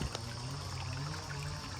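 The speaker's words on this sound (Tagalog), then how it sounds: "Ayun na naman ang ulan" Rain falls steadily in an outdoor farm setting during a rice and dragon fruit harvest, a continuous close hiss of water pouring and trickling with no one talking.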